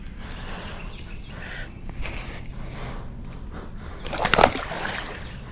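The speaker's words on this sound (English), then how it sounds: "Nice splash and she's off." A large released catfish, close to twenty pounds, swims off in a flooded creek, giving one sharp close splash near the end after quiet rippling water and faint background sounds.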